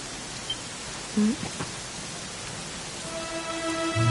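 Steady rain hisses as a continuous wash of noise in a Dragon Quest XI: Echoes of an Elusive Age scene, with a few soft tonal game sounds near the end.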